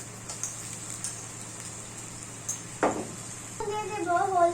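Bay leaves, cinnamon, cloves and cardamom frying with lightly browned onions in oil for beef liver bhuna: a soft, steady sizzle nearby with a sharper burst midway, and a voice talking toward the end.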